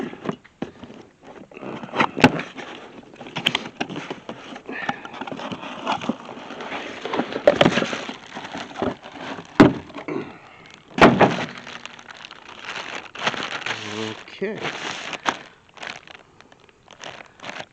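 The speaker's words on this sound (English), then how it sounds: "So let's go ahead and get the box opened here." Cardboard shipping box holding LED cab roof lights for an 88 to 2002 Chevy truck is torn open close by, with irregular ripping, flap thuds and crinkling packing noises in scattered bursts, and a brief voice near the end.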